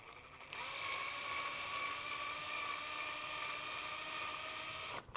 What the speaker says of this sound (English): creating some holes for the rivets to sit in